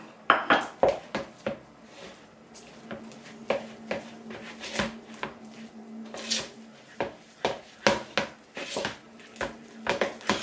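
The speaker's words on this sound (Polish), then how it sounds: "I mieszamy to łyżką, nie ugniatamy ręką." Spoon scraping and knocking against a bowl while butter is worked into a yeast dough for soft pull-apart butter buns, a steady series of close clinks and rubs with no talking.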